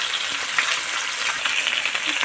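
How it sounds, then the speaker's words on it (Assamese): Fish frying in hot oil, a steady dense crackling sizzle with tiny pops throughout, close and fairly loud with no voices over it. "এইটো তেল গৰম কৰি আছোঁ। ইয়াতে মাছটো ফ্ৰাই কৰিম।"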